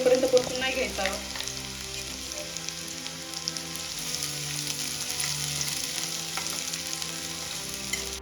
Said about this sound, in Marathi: त्यासाठी गॅसवर कढई ठेवली यामध्ये दीड चम्मच ऑइल टाकलेला आहे आता यामध्ये चॉप केलेला कांदा ऍड करून घेऊया